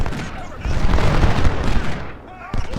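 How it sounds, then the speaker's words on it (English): Gunfire from enemy cavalry in a Civil War video game crackles as a dense, continuous rattle of overlapping musket shots, close and loud, easing toward the end with some voice beneath. "enemy cavalry is doing a lot of harassing, running up, shooting, and then retreating"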